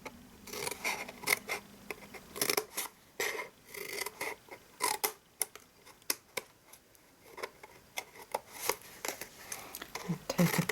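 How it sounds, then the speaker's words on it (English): Scissors cutting card stock for a handmade gift box, many quick close snips and crisp cuts in irregular bursts, with faint rustling of the card between them. "I'm going to cut that off and notch in"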